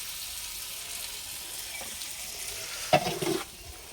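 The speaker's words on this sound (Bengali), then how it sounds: "এই যে মাছ ভাজা, আর এই জায়গায় তরকারি কষানো হইতেছে।" Fish frying in oil beside a curry being sautéed in a pan in a village kitchen in Bangladesh, a steady soft sizzle throughout with a brief louder burst of stirring near the end.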